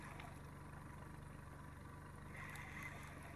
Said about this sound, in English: Let's slow the motor down just a little bit.